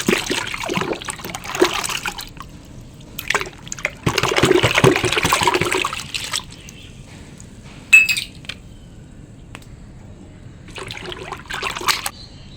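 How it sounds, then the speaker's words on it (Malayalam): Sour fermented dosa batter being mixed into half a bucket of water, giving close splashing and trickling in several bursts with pauses between them and occasional clinks against the container, and no talking. "ഇത് നമുക്കിപ്പോൾ ഒരു 1/2 ബക്കറ്റ് വെള്ളത്തിലോട്ട് കലക്കാം"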